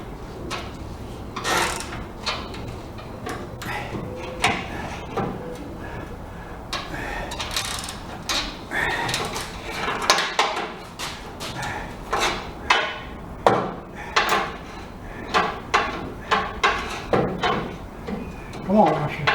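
A giant pry bar working on car suspension parts of an S10 pickup's upper and lower A-arms, with irregular metallic clanks, scrapes and knocks that grow sharper and more rhythmic over time, close, with some muffled talk underneath.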